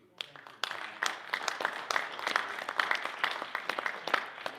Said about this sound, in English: So applaud what you gentlemen do.